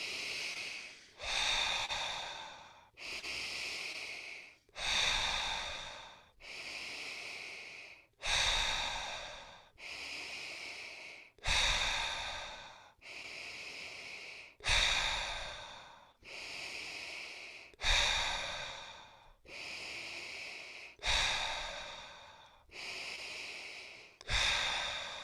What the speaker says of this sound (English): start inhaling through our nose and exhaling through our mouth